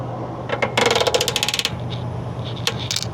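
Metal ratcheting clicks from a wrench backing off a truck brake adjuster a quarter turn, a quick burst of rapid close clicks with a few scattered taps after, no talking.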